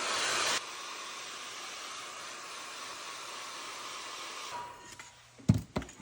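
Hair dryer blowing steadily on a mixed media art layer, a loud constant whir with a louder burst at the start, then switched off, followed by a few knocks and handling noises.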